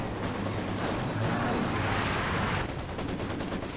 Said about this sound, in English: Bit of maxim work here.